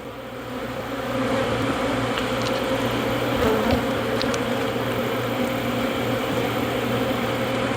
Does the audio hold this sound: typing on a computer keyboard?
no